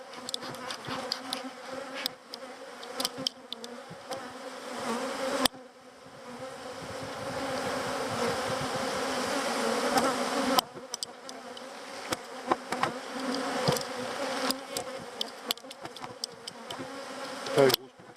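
Bees swarming around an open hive with a very large colony: a dense, continuous buzzing close in, rising and falling in intensity, with sharp thumps and knocks from handling the hive.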